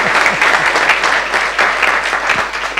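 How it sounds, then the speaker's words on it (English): An audience at a Sunday feast talk claps in sustained, dense applause of many hands, loud and close, with no voices on top. "I think that deserves a round of applause"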